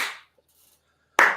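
Sharp hand claps in a horror audio drama: the fading tail of one clap opens, then near-silence, then a second loud, crisp clap that decays quickly, heard alone with no talking.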